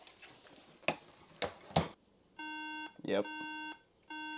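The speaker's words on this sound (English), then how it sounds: "If you plug in the battery and it beeps, that means that, unfortunately," A sharp electronic beep pattern from a 2008 aluminum unibody MacBook with incompatible RAM sounds in two sustained bursts after a few clicks and a brief spoken word.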